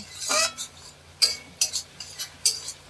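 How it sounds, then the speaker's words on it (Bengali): Meat with turmeric is stirred in a metal cooking pot: five or six short, bright scraping clinks of a spoon against the pot, spaced irregularly over near silence. "এইভাবে নাড়তে থাকবেন"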